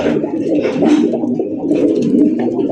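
A Kakji pigeon coos up close, with repeated throaty, rolling coos in quick succession.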